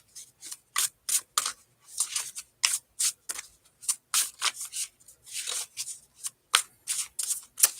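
Oversized tarot cards being shuffled by hand, giving a run of sharp, papery riffling bursts separated by short pauses, close and fairly loud with no speech.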